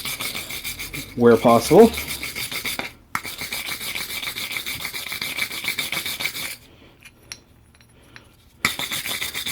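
Buildup is scrubbed out of the threads of a rear trailing arm bolt on a 2004-2008 Pontiac Grand Prix: dry, rasping brush strokes in bursts with pauses, and a few spoken words early on.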